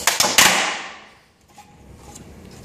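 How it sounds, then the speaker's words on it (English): Plastic bottom cover of an Epson P600 printer snapped off along a scored line: a few sharp, loud cracks in quick succession, then a brief quiet with faint handling noise. "So now we should be able to just snap this on both sides, and after we snap it at the score"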